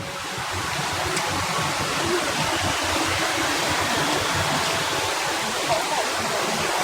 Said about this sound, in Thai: นี่ทางลำธารเนี่ย ดูทางลำธาร